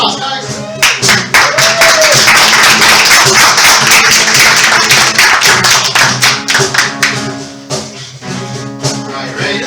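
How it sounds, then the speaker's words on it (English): Audience clapping at a live student music performance at a music school, dense and steady through most of the stretch with individual claps audible, thinning toward the end, with some voices and cheering mixed in. "go ahead and give her applause, guys"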